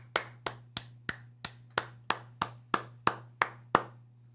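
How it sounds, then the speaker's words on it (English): About a dozen sharp, evenly spaced claps sound close and fairly loud, each ringing briefly before the next, over a low steady hum with no talk. "Will you guys join me in a round of applause by celebrating this new couple?"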